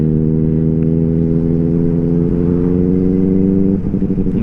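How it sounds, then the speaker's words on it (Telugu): A Triumph Street Triple 765 RS motorcycle fitted with a Yoshimura full-system exhaust runs loud and close, holding a deep, steady engine drone that shifts pitch near the end. "యోషిమురా ఎగ్జాస్ట్ బాగుంటుంది సౌండ్."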